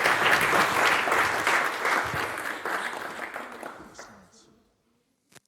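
Audience applause for George Aye at a design lecture panel in Auckland, a steady roomful of clapping that gradually thins and fades out over several seconds, with a single late clap near the end.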